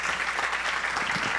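An audience at a peace-themed address applauds in a dense, continuous patter of clapping, fairly soft and distant-sounding, with no speech over it.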